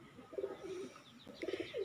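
Caged pigeons coo in a short series of soft, throaty calls, with a pause in the middle before a few more coos return, heard fairly close and alone.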